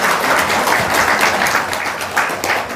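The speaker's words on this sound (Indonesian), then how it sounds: "Tepuk tangan." A crowd claps to welcome a guest arriving at a lively Indonesian show, with steady, loud, dense applause throughout and a few voices faintly underneath.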